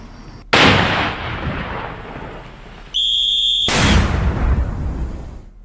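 A sudden heavy blast from the controlled detonation of an IED bomb breaks the quiet, followed by a roaring rumble. A brief electronic tone sounds, then a second deep, rolling boom.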